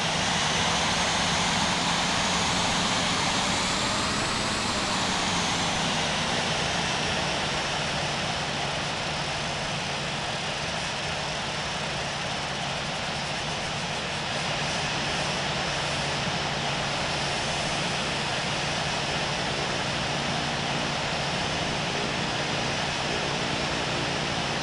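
A simulated Boeing 747-200 jet in TAP Portugal livery taxis at San Diego in Infinite Flight, its engines giving a loud, steady, unbroken whine and roar with a slight pitch swell early on, with no talking.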